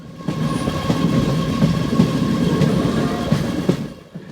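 A passenger train running on the Sengottai–Punalur line in monsoon rain, a loud continuous rumble with rhythmic wheel clatter over rail joints, steady throughout and tapering at the end.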